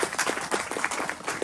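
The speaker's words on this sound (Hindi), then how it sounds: "सो एक बार तालियां इसके लिए।" Audience at the Indian Pavilion of Dubai Expo 2020 applauding, a short burst of scattered hand claps at moderate distance, fairly faint.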